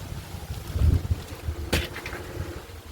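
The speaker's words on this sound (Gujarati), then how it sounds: "જોરદાર પવન ઉપડો છે" Strong wind gusts past the microphone in rumbling, buffeting surges during a sudden unseasonal storm, with a brief sharp rattle partway through.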